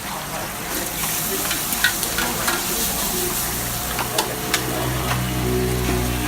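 Chips fry in a takeaway shop's deep fryer with a loud, dense, continuous sizzle, scattered clicks and clatters on top, and a low hum of shop machinery underneath.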